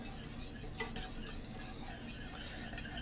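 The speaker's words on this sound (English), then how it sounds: "I'm gonna be stirring constantly now." Lemon curd comes to a boil in a pot while a utensil stirs it constantly, a quiet, steady scraping and swishing close by with soft bubbling underneath.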